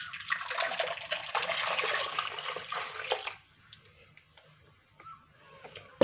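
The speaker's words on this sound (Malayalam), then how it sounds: "ഇത് നമുക്ക് മൺചട്ടിയിലോട്ട് ഒഴിക്കാം" Ground masala paste mixed with water poured from a mixie jar into a clay pot while making fish curry, a steady close liquid stream for about three seconds, then quiet with faint clinks.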